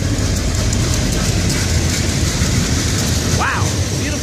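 A CSX freight train led by three SD70M locomotives rolls past nearby, with a steady loud rumble and wheel noise on the rails and a short squeal near the end.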